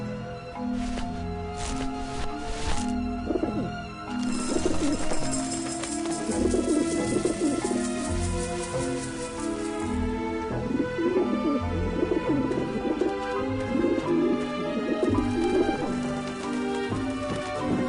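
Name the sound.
pigeons cooing in the video game Grim Fandango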